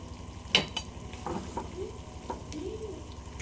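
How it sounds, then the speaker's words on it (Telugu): Leftover rice frying in a pan while a spoon stirs it, with a soft continuous sizzle under a few sharp scraping clicks and brief tonal chirps, close and fairly quiet. "ఇప్పుడు ఇందులోకి మనం రైస్ని యాడ్ చేసుకొని మంచిగా ఫ్రై చేసుకోవాలి"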